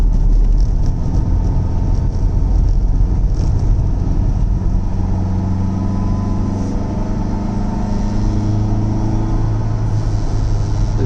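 A 1970 Lancia Fulvia Berlina engine drones steadily in fourth gear at light to half throttle, a loud continuous low rumble and whir heard from inside the car while driving.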